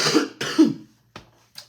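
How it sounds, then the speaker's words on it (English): A woman coughs twice, hard and close, followed by two short, softer throat sounds, with silence between them. "usually when I do cough, it's kind of an uncontrollable cough"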